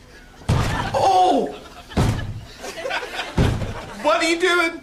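Door slams in a TV sitcom scene, three heavy thuds spaced apart with laughter and talk between them.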